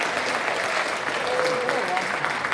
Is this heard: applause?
yes